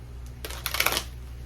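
Oracle cards are shuffled in a brief, close burst of rapid papery riffling and flicking that swells and then fades over a quiet low hum.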